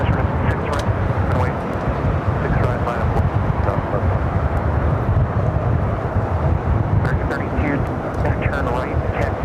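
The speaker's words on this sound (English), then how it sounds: "Lufthansa Queen already rolling down at runway" A Lufthansa airliner rolls down the runway on its takeoff run in strong wind, giving a dense, steady rumbling roar heard at a distance with gusty noise over it and faint voices.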